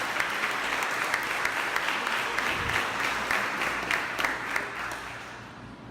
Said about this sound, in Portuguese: Aplaudam bem forte ao Senhor